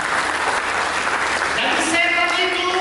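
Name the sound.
church congregation applause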